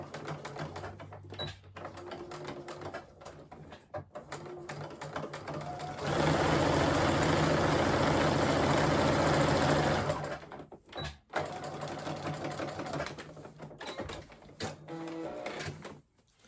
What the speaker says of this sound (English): So I'm going to start off by sewing and reversing, come to the edge of the fabric and sew and reverse again.